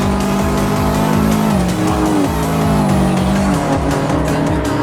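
Race cars in the Assetto Corsa racing game, including cars number 13 and 86, roar steadily at close range, with engine pitch rising and dropping sharply through gear shifts and faint tire squeal over continuous loud engine noise.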